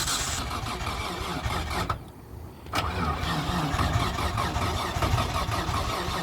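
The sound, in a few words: R33 Skyline engine cranking to start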